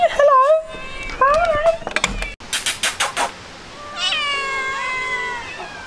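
Many cats on a balcony in Yerevan, Armenia, meow repeatedly at close range, several voices overlapping in rising and falling cries, with a short rustling clatter in the middle.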